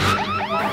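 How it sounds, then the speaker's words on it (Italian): Security alarm activating, a short burst of sweeping electronic tones rising and falling in quick succession, loud and close, lasting under a second. "Allarme attivo."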